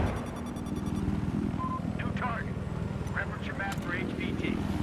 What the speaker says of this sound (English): Big fat chopper's chasing us here.